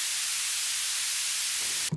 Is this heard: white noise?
yes